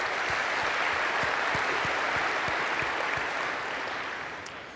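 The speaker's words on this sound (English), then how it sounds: "So a big round of applause for NVIDIA." An audience applauds a sponsor at a modeling competition event, with dense, steady clapping that keeps an even loudness for several seconds and then tapers off slightly at the end.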